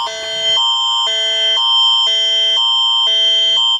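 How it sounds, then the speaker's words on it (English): An electronic alarm sounds during an alarm test, alternating between two tones in a steady, evenly paced cycle, loud and close, repeating several times. "Alarm test."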